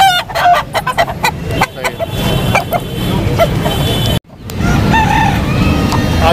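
A rooster crows loudly several times alongside clucking hens at a Karachi bird market, with a brief spoken remark and a sudden cut partway through.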